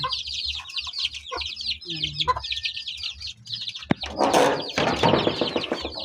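Chickens cluck and chirp steadily inside a backyard coop in a rural province setting, repeated close calls over a low background rumble, with a burst of rustling and scratching toward the end.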